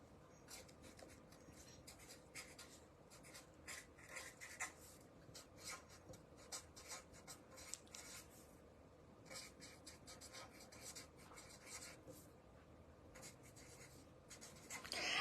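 A pen scratches on a sticky note, close and quiet, in short irregular strokes and scribbles with brief pauses, no talking.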